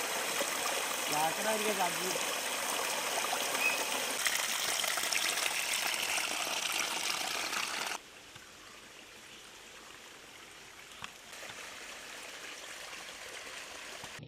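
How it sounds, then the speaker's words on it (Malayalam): Water gushes nonstop from a newly drilled borewell in a steady, loud rushing stream that drops abruptly to a softer flow partway through. "ഇപ്പോൾ മണിക്കൂറിൽ രണ്ടായിരം ലിറ്ററോളം വെള്ളം ആയി പോകുന്നു"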